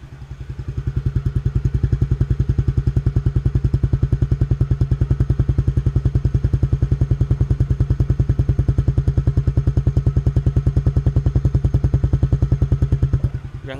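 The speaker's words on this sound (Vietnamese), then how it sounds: "Để em cho anh chị nghe cái tiếng bô của nó." A Suzuki FX 125 motorcycle with its original engine idles steadily, its exhaust giving a fast, even train of close thumping pulses that stays loud throughout, with no voices.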